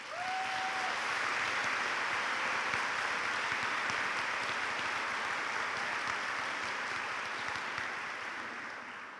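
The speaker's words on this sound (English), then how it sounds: "Please give them a round of applause." Sustained applause fills a nursing pinning ceremony hall, steady dense clapping from a large audience holding at full level for several seconds before easing slightly at the end.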